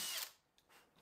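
Power drill driving screws into a wooden cabinet cleat in a garage workshop, a brief close whirring burst that fades, followed by faint shorter ticks.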